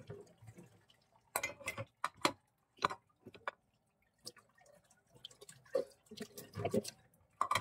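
Dishes being washed by hand at a sink, with scattered clinks of plates and sharp drips and splashes of water coming in irregular bursts separated by short quiet gaps.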